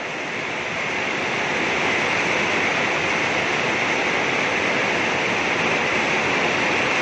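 Steady heavy rain pouring onto a rooftop, a dense continuous hiss and wash that swells in over the first second and then holds loud and unbroken, with no voices.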